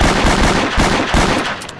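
Pistol gunfire in the Emergency Response roleplay game, a quick string of loud, close shots fired in rapid succession.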